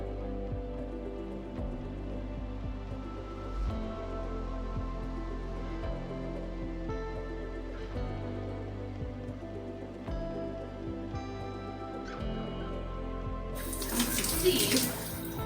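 Water runs steadily from a shower while hair is rinsed, a continuous close splashing stream that swells louder and brighter near the end, with no voices.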